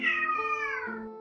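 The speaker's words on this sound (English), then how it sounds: "That's my cat." A single drawn-out cat meow, loud and close, sliding slightly down in pitch over about a second.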